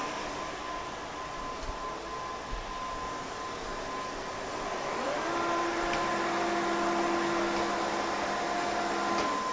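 MOVA M50 Ultra robot vacuum running with a steady airy suction roar and whine, rising in intensity and adding a sustained tone partway through as it sucks up a tuft of hair.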